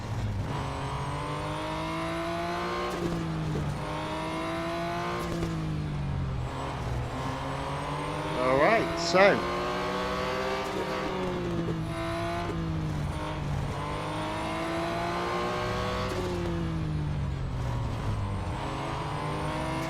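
Race car engine in the Real Racing 3 video game, a continuous droning roar with rising and falling revs as gears shift during a lap, with one sharp higher-pitched burst midway; a voice speaks briefly.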